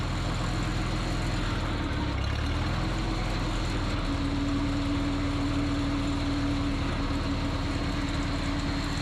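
An old Minneapolis Moline tractor, the Old Smoky, idles at a fairly brisk steady speed, a loud continuous low rumble with a faint drone that holds through the whole stretch.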